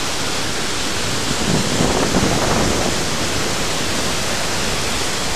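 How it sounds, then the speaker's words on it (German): A mountain stream running full with August meltwater near the Breslauer Hütte above Vent, on the trail toward the Wildspitze, makes a steady, loud, unbroken rush that fills the whole stretch with no voices. "Relativ viel Wasser."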